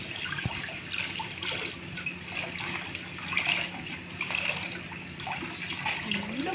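Clothes are washed by hand with water, giving a continuous splashing and trickling wash with small sloshing bursts, moderately faint and steady throughout.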